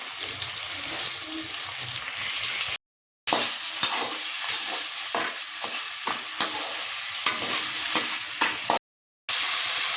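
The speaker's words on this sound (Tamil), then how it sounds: "சின்ன வெங்காயம் போட்டு நல்லா வதக்கி எடுத்துக்கலாம்." Small shallots sauté in oil in a pan for chicken thokku, giving a loud, close, continuous sizzle with stirring scrapes. The sound drops out briefly twice.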